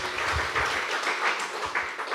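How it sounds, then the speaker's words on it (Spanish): Applause from a church congregation during a sermon, a dense patter of many hands clapping together, fairly close and continuous with a few heavier low thumps, no talking over it. "Fuerte aplausos a Cristo"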